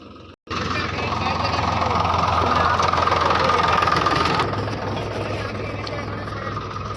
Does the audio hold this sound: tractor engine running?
yes